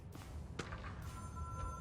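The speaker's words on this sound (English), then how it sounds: "There's a phone ringing in here." An old-style telephone rings in a quiet office setting in the video game Control, its bright electronic trill sounding in short repeated bursts over a low room hum.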